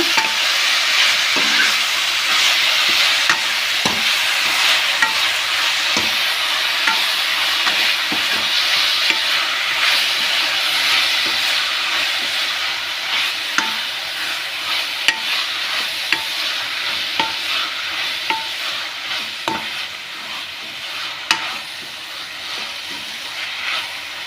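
Moringa leaf dal mixture stirred in a pan for a long stretch, with a continuous close sizzle and frequent soft scraping ticks from the spoon, steady and fairly loud with no voices.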